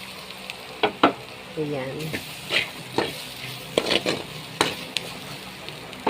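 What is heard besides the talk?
onions and meat frying in a pan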